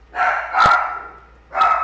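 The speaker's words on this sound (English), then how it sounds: "I hear barking" A dog barks twice, close by, with a short pause between the two sharp barks.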